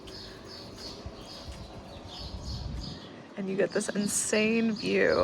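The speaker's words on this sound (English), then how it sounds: "the birds are insanely loud" Birds chirp and call repeatedly in the background in Morocco, loud and busy, while a person talks over them partway through.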